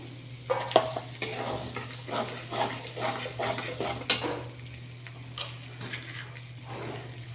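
Ground spice powders such as cumin and mustard fry in a pan for mango pickle, making a soft steady sizzle over a low hum, with repeated scraping strokes of a spoon stirring close by.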